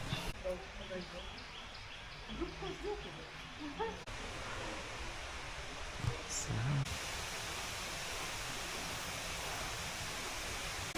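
A waterfall at Wat Pha Lat temple in Chiang Mai pours in a constant broadband rush, with birds calling faintly and a voice speaking over it.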